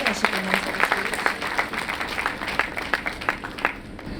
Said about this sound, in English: Can we give a round of applause to Ma'am Vincy?